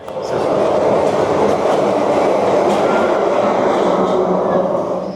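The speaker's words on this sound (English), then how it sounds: "I love filming the monorail, but filming it inside of DCA is so hard because it comes at you so fast and out of nowhere" Disneyland monorail rushing past inside Disney California Adventure, a loud, close, continuous rumble of wheels and rail noise that swells in quickly and holds steady, with faint crowd voices beneath.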